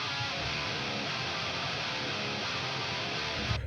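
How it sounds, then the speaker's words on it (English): Mixed main electric guitars for a heavy rock track play as a dense, loud wall of distorted chords, steady throughout and then cutting off abruptly. "So my main guitars sound like this."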